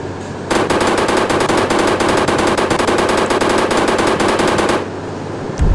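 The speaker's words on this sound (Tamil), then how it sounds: "AK-47 சவுண்டு கேட்டு பாருங்க" Loud, sustained automatic AK-47 fire in a video game, a rapid unbroken burst of shots lasting several seconds, close and dominant, then it stops abruptly, with no talking.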